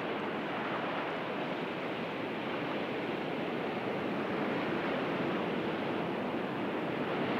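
Waves break over the river bar at the Narooma breakwater in Australia, a steady, dense roar of surf wash that stays loud and continuous throughout, with no voices.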